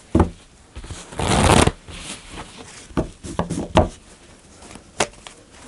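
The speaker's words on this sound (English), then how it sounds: "I'm going to shuffle the cards." A tarot deck is shuffled by hand, a dense riffling burst followed by scattered soft taps, slides and card snaps, close and fairly quiet with no talking.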